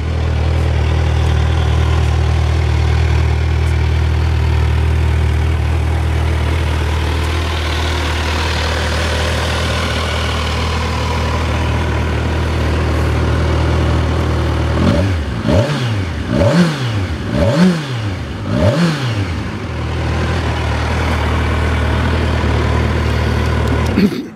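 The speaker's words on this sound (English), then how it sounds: "Kind of let you hear the exhaust. It's pretty quiet." A 2020 Kawasaki Ninja 1000SX's quiet stock exhaust idles steadily up close, then is blipped through several quick rising and falling revs in a row before settling back.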